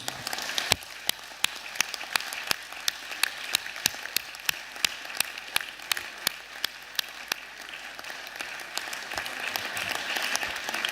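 A live music competition audience applauds a singer at the close of an audition event, steady group clapping with sharp individual claps standing out, moderately distant and continuous, with no voices.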